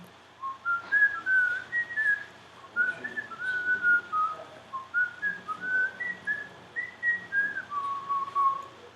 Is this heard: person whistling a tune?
yes